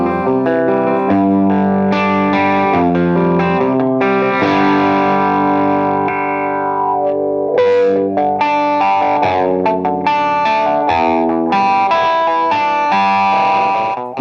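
An electric guitar played through a Dunlop Mick Ronson Cry Baby wah pedal, with distorted, sweeping chords and riffs ringing continuously and loudly for the whole passage, broken only by a brief dip in the middle.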